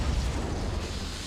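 A Confringo blasting spell explodes in Hogwarts Legacy, giving a short, low, rumbling burst that fades quickly.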